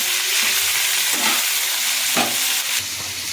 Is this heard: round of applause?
no